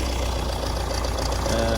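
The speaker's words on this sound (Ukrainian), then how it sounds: "Завів трактор." An MTZ 80 tractor engine idles with a low, steady diesel chug and a faint knocking rhythm, moderately quiet and continuous with no speech.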